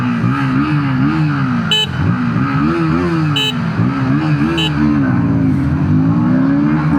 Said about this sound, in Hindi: तो अब दोनों बाइक्स की हम ड्रैग रेस करने वाले हैं, MT-15 और KTM ड्यूक 160।